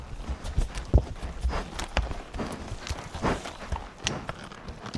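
A horse's hooves clip-clop along a backcountry mountain trail in a loose walking rhythm, fairly close, with scuffs and faint rustling between the steps.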